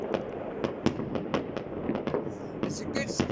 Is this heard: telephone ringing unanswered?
no